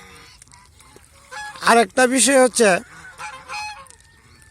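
Geese give a close, loud run of four or five harsh, nasal honks in quick succession. A voice talks briefly between them.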